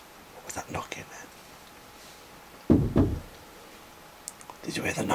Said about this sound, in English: There was two knocks.